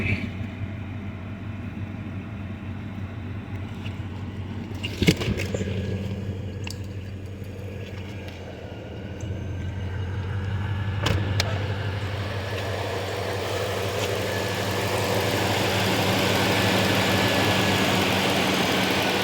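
A Mercedes S550 engine idles with a muffler delete, a steady low rumble running throughout, fairly close, with a few brief clanks and knocks around it.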